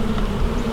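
Honey bees kept on a rooftop hive buzzing in a dense, steady drone, loud and close, with no talking over it.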